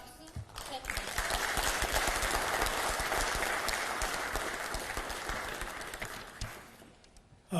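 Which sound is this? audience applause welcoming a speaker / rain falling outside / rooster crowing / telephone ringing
audience applause welcoming a speaker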